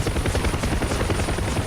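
A helicopter in the DCS flight simulator flies low over the Falklands, its steady, loud rotor thump and turbine whine filling the whole moment with no voices.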